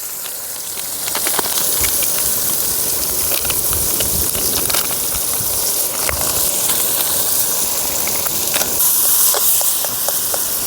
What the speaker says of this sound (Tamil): நல்லா தக்காளி வெங்காயம் நல்லா வணங்கிட்டு இருக்குது.